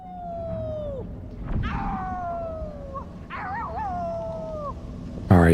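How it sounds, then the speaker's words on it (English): Howling from creatures in the stealth game Dishonored 2: several long, wavering, falling howls and yips come one after another, fairly close and clear over a low rumbling game background, with a sharp loud burst at the end. "Did you howl?"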